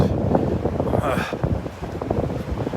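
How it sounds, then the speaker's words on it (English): Wind gusting across the microphone on a beach at Delnor-Wiggins, a rough, rumbling buffet with uneven surges, strongest around the middle, loud and close throughout. "Here comes the wind."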